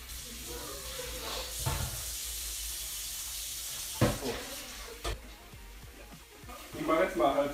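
Tap water running into a large cooking pot in a home kitchen, a steady rushing stream broken by a few clanks and knocks, with brief voices near the end.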